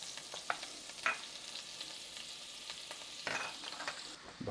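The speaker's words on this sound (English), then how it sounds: "Now what we're going to do is drop in our butter." Butter melting in a pan for vodka sauce sizzles faintly, joined by occasional light scrapes and clinks of a utensil, with no one talking.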